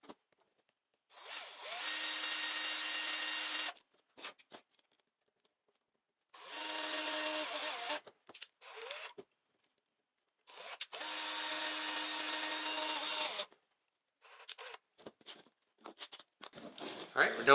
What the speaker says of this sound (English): So before I drill this hole